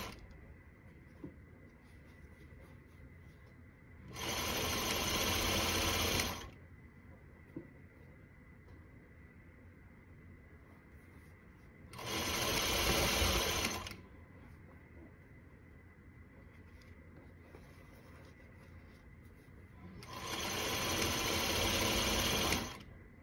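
A Juki sewing machine's bobbin winder whirs in three steady bursts of about two seconds each, separated by quiet pauses with low background hum.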